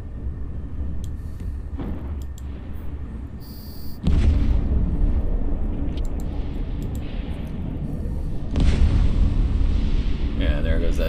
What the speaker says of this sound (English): one thing I like about these turrets is they make a nice explosion.